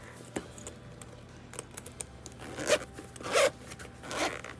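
A zipper is pulled open in a few short rasping bursts, with light clicks and handling noises between them, close and fairly quiet.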